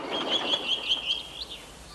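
Birds chirp behind a Thomas & Friends scene, giving a rapid string of bright, evenly spaced tweets that ends in a rising call over soft outdoor ambience, moderately close and clear.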